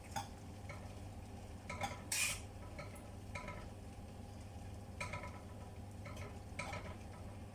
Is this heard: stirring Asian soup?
yes